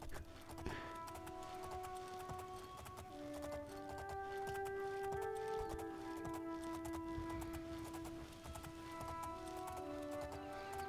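Horse hooves clip-clop at a steady walking pace in The Elder Scrolls IV: Oblivion, continuous and moderately loud over a sustained tonal music bed.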